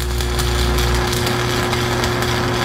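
A stick welding arc crackles and hisses steadily and close, with a constant electrical hum underneath for a few seconds.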